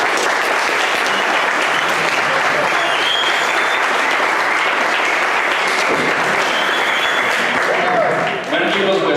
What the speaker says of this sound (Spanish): Agradecemos y despedimos con un aplauso al maestro Roberto Escobar.